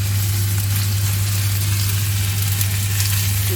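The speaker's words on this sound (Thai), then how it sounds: "ใส่ข้าวลงไป อันนี้ผัดเลยค่ะ ไฟเริ่มร้อนแล้ว" Rice stir-fried in a hot pan for Thai basil fried rice, a soft steady sizzle over a constant low hum from the stove, with no voices.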